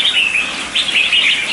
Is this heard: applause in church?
no